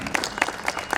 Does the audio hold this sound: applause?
yes